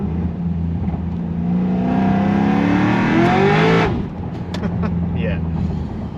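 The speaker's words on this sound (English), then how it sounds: "I just turned traction control off and hit it, and it just annihilated the tires" An 850 hp Cadillac CTS-V with traction control off roars loudly as its engine climbs in pitch while the tires spin, then the revs drop away abruptly, heard from inside the car.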